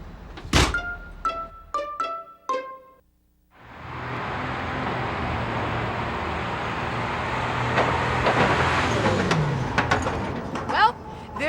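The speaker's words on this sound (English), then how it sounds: "there goes another truckload of newly minted coins" Truck loaded with newly minted coins starts up and drives off, a steady engine rumble building and rolling away after a burst of sharp metallic clanks and a brief silence.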